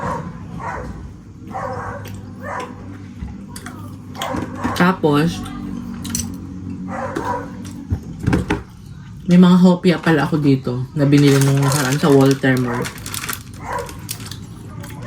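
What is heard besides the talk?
dog barking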